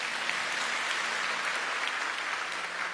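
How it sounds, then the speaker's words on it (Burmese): An audience claps at a gospel worship gathering in Myanmar, making dense, sustained applause from many hands at a steady level, with no speech over it. "လက်ခုပ်တီးကြိုဆိုပေးပါ"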